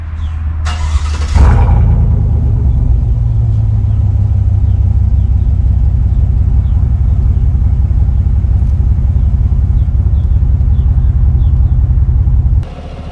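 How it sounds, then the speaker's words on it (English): A 2019 Chevrolet 5.3L V8 truck engine with a loud exhaust idles in a steady, deep rumble up close, starting with a brief sharp burst and holding an even throb until it cuts back near the end. "So the engine sounds great when it's rumbling, when it's idle, even when you're taking off."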